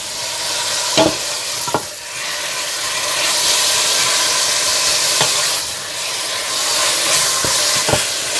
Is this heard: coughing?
no